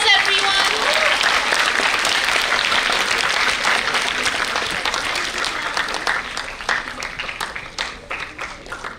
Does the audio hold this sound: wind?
no